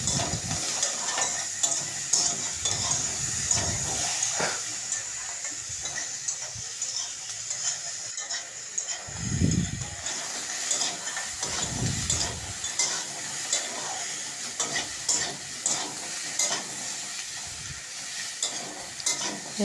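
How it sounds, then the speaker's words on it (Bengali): Onion and potatoes fry in a pan, a steady broadband sizzle throughout with occasional scraping stir strokes and a couple of low thumps, close and fairly loud, with no talking. "আলুটা ভালো করে ভেজে নিয়েছি এবার পেঁয়াজ দিয়ে দিলাম"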